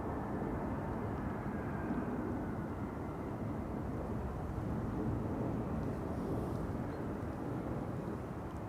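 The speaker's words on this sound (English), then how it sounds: "that's the audio of the 777 to Johannesburg" A Boeing 777 airliner departs Schiphol for Johannesburg, a steady distant roar of jet engines blended with wind rumble, holding an even level throughout with no voices.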